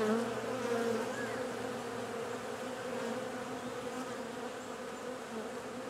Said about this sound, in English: All right, move out the way, bees.